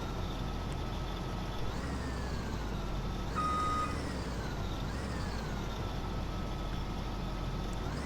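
A truck in Farming Simulator 17 backs up with a loud engine drone. A rising engine whine repeats every second or so, with faint beeping tones on top and no voices.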